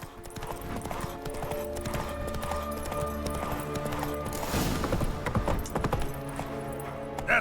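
Roach, the horse from The Witcher 3, gallops with a steady clip-clop of hooves over a dense game score, and a brief whinny is heard near the end.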